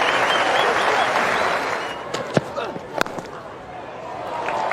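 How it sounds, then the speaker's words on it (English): A crowd at a cricket Test between England and Bangladesh applauds warmly for a batsman's fifty, the clapping swelling broadly, then thinning into a few scattered sharp claps. "Applause from his captain from the balcony."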